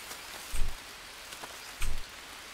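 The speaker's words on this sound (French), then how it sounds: "Il pleut." Rain falls steadily in the jungle survival game Green Hell, a dense broadband hiss with two heavier rumbling swells.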